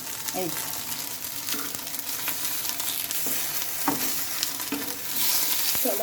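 A potato and semolina batter for dhoka being stirred in a pan, with a continuous close sizzle and repeated soft scrapes and knocks of the spoon, moderately loud throughout.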